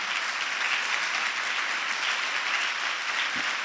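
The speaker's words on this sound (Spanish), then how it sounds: "Dele un aplauso al Señor si usted lo cree" A church congregation breaks into steady, dense applause that fills the whole stretch, loud and close with no pauses or voices.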